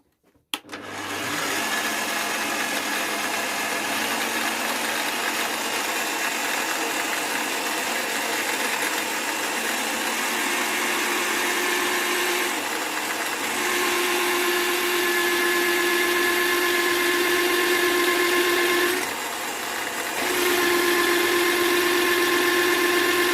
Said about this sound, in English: This section here, steel, we'll try drilling that.